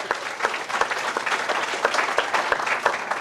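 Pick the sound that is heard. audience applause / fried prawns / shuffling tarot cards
audience applause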